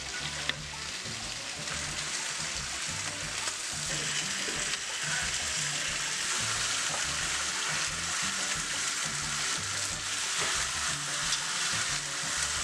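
Lamb chops for a honey garlic dish sear in a hot pan, giving a steady, loud sizzle and crackle that runs unbroken throughout, with no voices over it.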